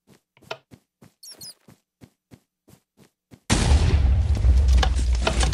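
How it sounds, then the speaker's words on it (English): A Minecraft TNT explosion erupts as a sudden, loud broadband blast that rumbles on for about two seconds, following a run of short, sharp clicking footsteps. "You want to be running when the explosion goes off"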